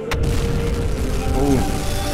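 Torpedo impact explosion in the submarine game UBOAT during an attack on Scapa Flow: a sharp early blast, then a sustained low rumble under a loud, dense mix.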